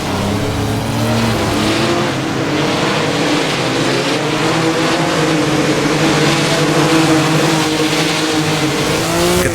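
A Maserati 250F racing car in a sim race, its engine holding a loud, steady roar with faint tyre squeal as the back end power-slides through a corner, continuous and close throughout.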